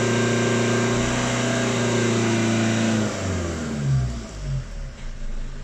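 A Fiat Grande Punto engine held at high revs with a steady tonal whine, then the throttle is released and the pitch drops and falls away into uneven, lower idling pulses.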